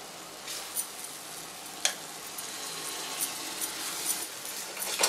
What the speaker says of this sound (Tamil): ஒரு 5 மினிட்ஸ் வந்து சிம்மில் வச்சு நம்ம வதக்கிக்கலாம்